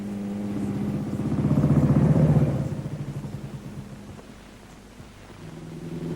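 A 1955 motorcycle engine just started with the kickstarter, a low, throbbing idle that swells louder, then eases back to a softer, steady rumble.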